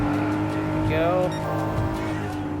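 A Nissan Fairlady Z 300ZX twin-turbo FR race car in Gran Turismo Sport holds a steady, loud engine drone with a brief tire squeal and pitch sweep midway, while someone talks over it.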